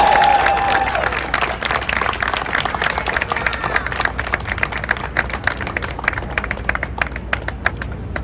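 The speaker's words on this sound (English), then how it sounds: "Please give him a round of applause." Loud, sustained applause from a crowd welcoming the Consul General of Panama, many hands clapping close and steadily throughout, with sharp individual claps standing out near the end.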